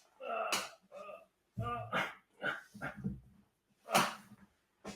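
A pet dog scratching at a door and whining, with short yelps and whimpers in bursts at close range, mixed with a person's voice.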